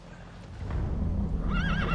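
D-Horse neighs in Metal Gear Solid V: The Phantom Pain, a wavering whinny rising over a low rumble of game ambience and movement, fairly close and clear in the latter half.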